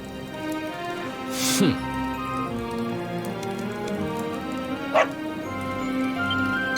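A dog in the Dragon Quest XI video game gives a sharp bark and then a fainter yelp a few seconds later, over a steady background hum that sounds like game music and rain.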